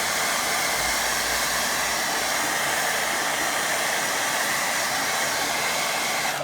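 Hair dryer blowing over a watercolour painting, a steady loud whooshing roar held at constant pitch from start to finish, close to the microphone with no talking.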